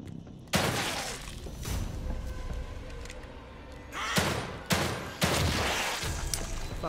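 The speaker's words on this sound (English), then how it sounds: "Fucking wasted 3 shots." Shotgun blasts in the survival horror game The Evil Within 2, three sharp, loud booms spaced a second or so apart, each with a short rumbling tail over tense background ambience.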